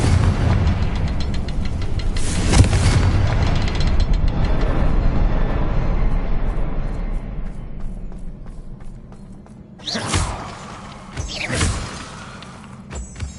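The Confringo fire spell in Hogwarts Legacy erupts in booming blasts, a dense rumbling roar early on that thins out, followed by two sharp explosive bursts near the end.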